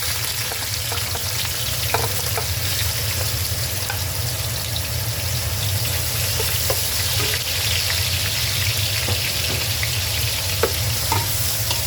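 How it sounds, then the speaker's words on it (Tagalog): Ginger sautés in a hot pan, cooked first before crab and shrimp with coconut milk, giving a constant loud sizzle with scattered pops and clicks over nearly twelve seconds, without talk. "we need to saute the ginger first"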